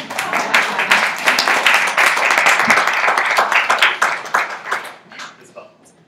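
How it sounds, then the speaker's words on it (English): An audience claps for the organizer of a family tribute event, a dense burst of applause that builds, holds for several seconds and then thins out to scattered claps, with voices mixed in. "so please give him a round of applause."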